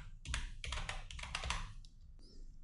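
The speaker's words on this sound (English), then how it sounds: "So select this text and type your second text" Close, faint typing on a computer keyboard, a quick run of clustered key taps followed by a pause and one last soft tap, with no talk.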